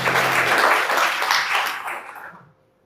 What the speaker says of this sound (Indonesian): Boleh tepuk tangan buat Tuhan Yesus.